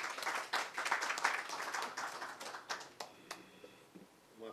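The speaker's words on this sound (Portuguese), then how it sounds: "Uma parte das palmas são para o Marcos" Scattered audience clapping at a Brazilian science symposium on women in science, dense at first and then thinning to sparse individual claps that die away toward the end.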